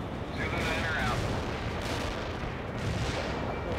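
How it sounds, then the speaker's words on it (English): Artillery strike firing in the strategy game World in Conflict, a dense, continuous roar of distant blasts and rumble with no distinct individual shots. "Artillery firing."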